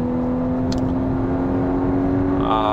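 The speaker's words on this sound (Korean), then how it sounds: "가속을 해보면 엔진 회전수를 5000rpm 이상까지 쭉 밀어서 올리는 거를 볼 수 있고요" A Volkswagen Atlas seven-seat SUV engine drones steadily from inside the cabin in sport mode, a smooth humming whine that holds near one pitch as the car accelerates past 5000 rpm.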